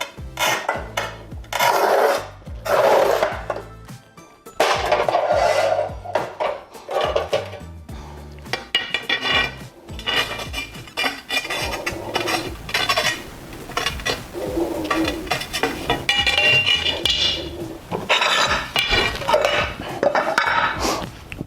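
A Montolit Masterpiuma P5 manual tile cutter at work, giving loud, repeated scraping and gritty rasping strokes broken by metallic clatters and knocks, with brief pauses between passes and no talking.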